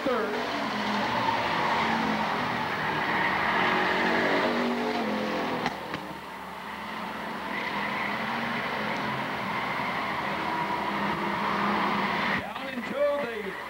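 Bomber class race cars circle a speedway track at Lakeport Speedway in a heat race, engines roaring steadily at a distance with tire noise, while a commentator talks over the action.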